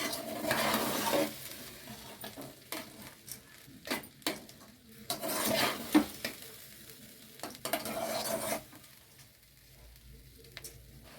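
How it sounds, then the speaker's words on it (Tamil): Soaked rice for chicken biryani stirred in a pot with a spoon scraping around the sides, scraping strokes and sizzle rising and falling in a few loud bursts, fairly close, with no talking. "சுற்றி ஓரமாக கொடுத்து தான் கிண்டணும்"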